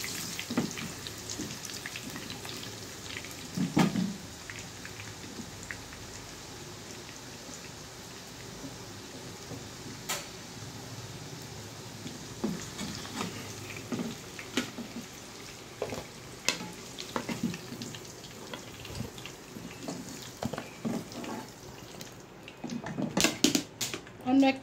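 Bay leaf, garam masala, cloves and cardamom frying in oil for chicken biryani, a continuous close crackling sizzle with scattered pops and occasional utensil clinks, with speech over it.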